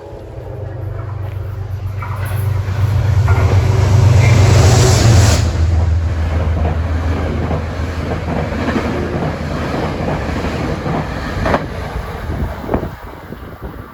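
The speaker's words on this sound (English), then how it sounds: "approaching at 3:30 is Metro North train 8835 from New York to Poughkeepsie. It's got a New Haven Heritage unit on the point" Metro North train 8835, from New York to Poughkeepsie with a New Haven Heritage locomotive leading, passes a station with a low diesel rumble that swells to a loud peak and then eases into a lingering rolling rush of cars.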